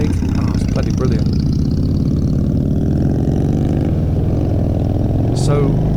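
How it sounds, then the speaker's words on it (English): Loping Evo V-twin of a 1982 Harley-Davidson FXR motorcycle idling steadily nearby, a deep, even rumble throughout with a brief blip at the end. "that Evo does sound fantastic though, doesn't it? That loping sound they make"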